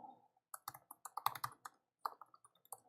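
Light, quiet typing on a computer keyboard comes as a quick irregular run of clicks and taps with short gaps, heard close up.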